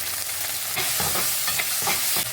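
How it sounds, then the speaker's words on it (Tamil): Chopped tomato sautéing in a pan for a lady's finger tamarind kuzhambu, a steady loud sizzle broken by repeated scraping stirs of a spoon, with no talking. "இப்போது ஒரு தக்காளியை கட் பண்ணதை இனி போட்டு கொஞ்சம் நல்லா வதக்கிக்குவோம்"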